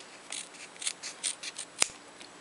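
Scissors trimming fursuit fabric around an eye opening: a series of close, crisp snipping cuts in an irregular rhythm, with one sharper click near the end, in a quiet room.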